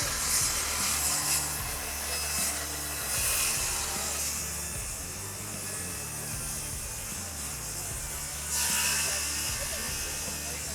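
A 36-volt Makita circular saw with a 7 1/4-inch carbide-tipped blade cuts through roofing shingles, galvanized flashing and quarter-inch plywood, giving a loud, continuous grinding whine with rough, labouring chatter throughout.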